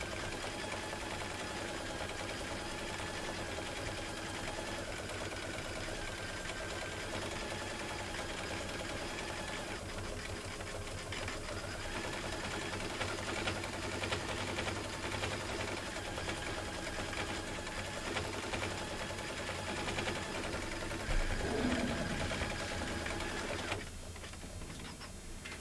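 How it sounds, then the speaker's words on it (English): A machine embroidery unit stitching a new shop name runs steadily and evenly, a continuous mechanical whir with faint periodic tapping that holds for over twenty seconds before easing near the end. "So now it is going to come through and stitch our new shop name."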